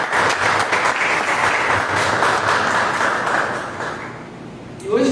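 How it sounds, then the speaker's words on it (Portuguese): A church congregation applauds in praise, a full, sustained round of clapping that thins and fades toward the end before a brief new sound cuts in. "Você pode aplaudir o Senhor?"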